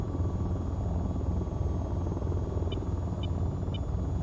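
AH-94 stealth helicopter in the VR flight game VTOL VR, a dense continuous rotor and engine rumble with a faint repeating electronic beep partway through.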